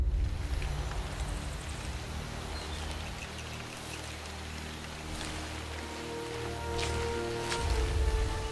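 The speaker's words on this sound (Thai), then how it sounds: "ฝนตกใหญ่นะ" Heavy rain in the shooter game Crysis Warhead, a steady broadband hiss of downpour with low rumbling underneath and a couple of brief sharper bursts, no talking.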